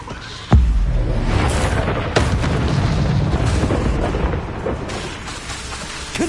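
A Confringo fire spell explodes in Hogwarts Legacy with a sharp, loud boom, then a long rumbling blast that rolls on and fades slowly, with a few smaller bursts scattered through it.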